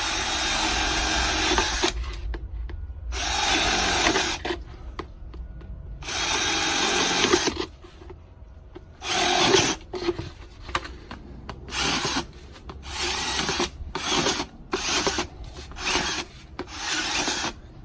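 A power drill drills holes in a French drain pipe, whirring in repeated bursts, long runs at first then short quick pulses, loud and close with brief quiet gaps between.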